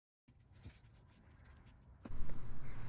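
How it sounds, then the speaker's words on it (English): Rag or paper towel rubbed along a metal door hinge pin, a soft, faint continuous scratchy wiping close up, growing louder and rougher near the end. "get a small piece of rag or paper towel that you have and wipe the hinges pin thoroughly"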